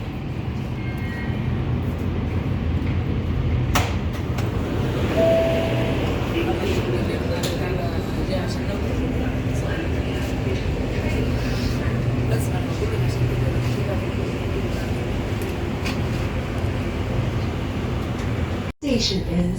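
A Riyadh Metro train arriving and then riding, heard as a steady loud rumble and whine of rolling stock with a voice talking over it throughout.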